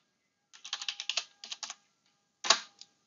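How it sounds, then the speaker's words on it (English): Short burst of typing on a computer keyboard entering a terminal command: a quick run of close, crisp key clicks, a brief pause, then a few more taps ending in a heavier keystroke, alone in a quiet room. "And we just type snafu."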